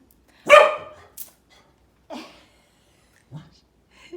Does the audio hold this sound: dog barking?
yes